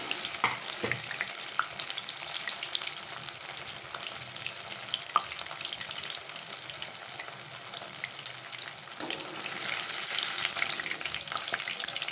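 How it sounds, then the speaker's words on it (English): Paneer cubes frying in batches in very hot oil in a large pan, a continuous dense sizzle and crackle with occasional sharper pops and a brief stirring scrape. "I'm putting it and frying it in batches"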